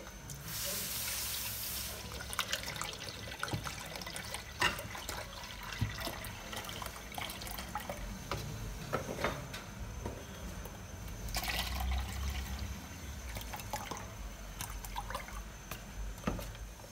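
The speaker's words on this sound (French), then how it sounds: "Je mets les 800 ml de lait." Milk being poured for a mango and lychee flan, 800 ml going into a pan or bowl as a steady liquid stream close by, with trickling and splashing throughout and a few clinks, no talking.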